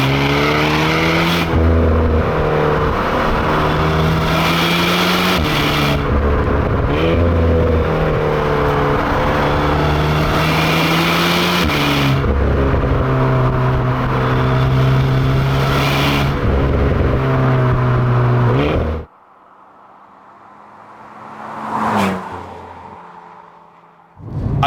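Alpine A110 sports car driving at speed on a British road, engine note rising and falling through gear changes with a loud, close drone, then cutting off abruptly before a brief swell near the end.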